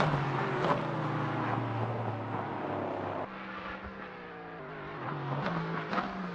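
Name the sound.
LMP3 race car overtaking at Silverstone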